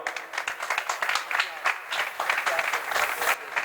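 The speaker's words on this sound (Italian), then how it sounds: "Un applauso." An audience applauds a basketball coach at a club's official season presentation, a dense burst of hand clapping from a crowd that stays steady for the whole stretch.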